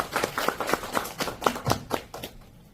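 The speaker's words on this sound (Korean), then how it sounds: "큰 박수 부탁드립니다." Applause at a forum session on unification education, heard as a short run of distinct, fairly close hand claps in an uneven rhythm that thins out and fades by the end.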